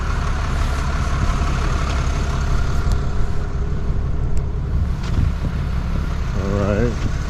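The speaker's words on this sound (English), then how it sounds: "There's a truck idling." A truck engine idles across the street near Grayland Beach State Park with a steady, heavy low rumble that never lets up, and a voice speaks briefly near the end.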